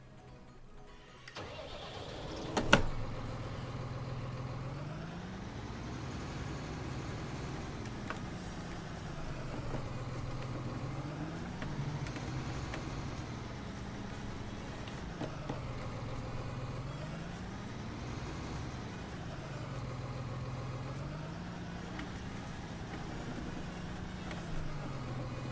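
Tractor engine in Farming Simulator 19 starts with a sharp clunk and settles into a steady mid-pitched drone that rises and falls in slow repeated cycles of revving, fairly faint and continuous.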